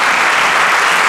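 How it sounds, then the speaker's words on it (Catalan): Audience applause at a charity concert by the Filibert Estrela orchestra, honouring care workers; a dense, loud, continuous wash of clapping filling the short moment. "Per això us demano un fort aplaudiment"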